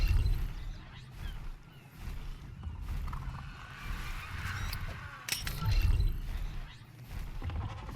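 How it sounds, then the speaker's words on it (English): A bird calling in ARK: Survival Ascended, repeated honking, goose-like cries over a low rumbling game ambience, moderately close, with brief louder bursts near the end. "Tell that bird to stop following me"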